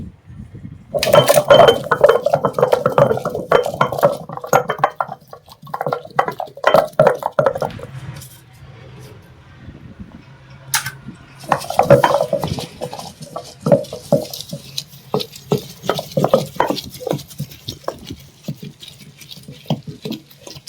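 Green chillies and mango pieces are ground on a traditional grinding stone: repeated close scraping and knocking strokes, busy at first, then sparser with pauses, and no talk.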